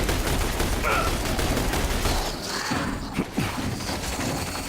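Gunfire in the video game XCOM: The Bureau during a boss fight: dense rapid bursts of shots at first, then a few heavy thuds and separate single shots as the firing thins out, loud and up close.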